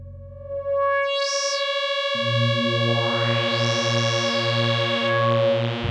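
A kHarper synth module, fitted with built-in reverb and delay, plays sustained harmonic tones with pitch sweeps rising and falling, over a pulsing low repeated bass pattern, loud and continuous with effect-laden shimmer.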